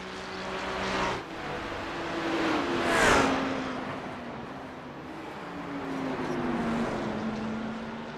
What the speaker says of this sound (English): Using the BMW horsepower to hold that Lamborghini at bay.